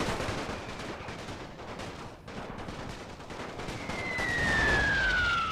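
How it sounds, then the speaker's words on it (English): Artillery blasts and machine-gun fire ring out in The Great War strategy game. Rough bursts of gunfire rumble continuously, the volume swelling toward the end, where a thin descending whistle cuts across the noise. "The light infantry is getting hit by the artillery."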